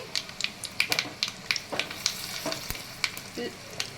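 Mustard seeds, urad dal and asafoetida frying in hot oil for a South Indian restaurant-style coconut chutney, with a steady close sizzle broken by sharp popping crackles and stirring scrapes, no voices.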